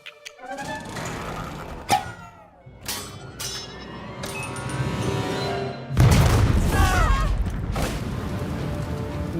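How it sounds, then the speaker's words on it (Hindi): A missile explodes in the Lego Batman video game, a deep boom landing among game effects and music, with a second heavy blast partway through, loud and close. "मिसाइल यहीं पे फट गई।"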